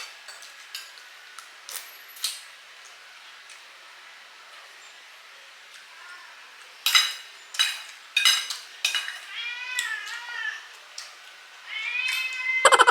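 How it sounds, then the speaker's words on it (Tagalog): A cat meows several times in short, rising cries, mostly in the latter half, amid faint clinking and ticking household sounds during a tuna sinigang meal. "Pusa."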